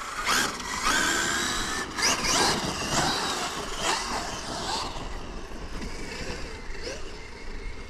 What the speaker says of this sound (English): Sound like the gears are self-destructing.